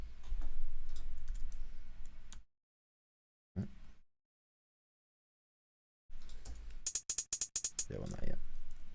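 Computer keyboard typing in a music studio session: a quick burst of sharp, closely spaced key clicks near the end, with other sounds before it and silent gaps between.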